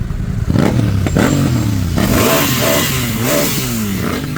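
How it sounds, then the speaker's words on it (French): Motorcycles rev loudly and repeatedly in a Brussels street gathering with police present, engines rising and falling in pitch close by, with a rattling clatter throughout. "Les motos aussi nous ont rejoints."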